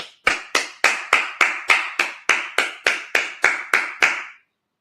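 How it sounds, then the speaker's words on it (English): A church congregation at a Sabbath service in Minnesota claps together in a steady, even rhythm, about thirteen crisp, close claps spaced evenly apart before stopping abruptly. "Let's clap it up."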